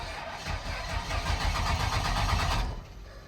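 A truck engine with its check engine light on cranks steadily with a rapid, rhythmic churning for about two and a half seconds, then stops without catching.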